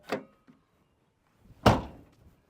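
A vehicle door on freshly installed hinges is swung and shut: a light knock first, then a solid close-up slam with a brief rattling decay, and quiet between.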